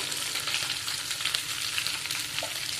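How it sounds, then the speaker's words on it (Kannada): Egg masala with fennel seeds frying in a pan, giving a steady, loud, close sizzle with soft stirring scrapes throughout and no talking. "ಎಲ್ಲ ಹಾಕಿ ಫ್ರೈ ಮಾಡುವ ಒಟ್ಟಿಗೆ ಫ್ರೈ ಮಾಡುವ"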